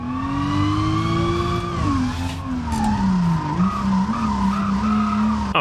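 A car drifting in BeamNG, tires squealing in a long steady pitched wail that bends up and down over a continuous engine drone, loud and close, with no talk.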